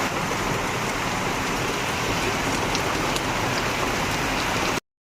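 Heavy rain falls outside in a dense, even roar of drops striking surfaces, loud and unbroken for several seconds before it cuts off abruptly.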